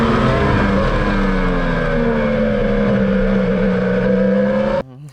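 A car driven at about 200 km/h, with a loud, steady engine roar and rising and falling harmonic tones from shifting revs, filling the interior until it cuts off abruptly near the end.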